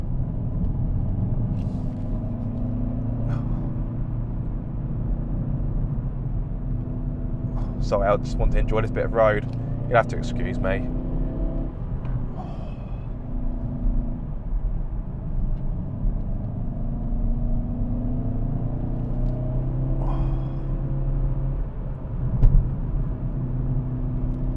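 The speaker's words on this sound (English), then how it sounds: "You still get a good noise from the engine." A Hyundai i30 Fastback N engine hums steadily in normal exhaust mode, with a low exhaust drone from inside the cabin while someone talks over it for much of the time.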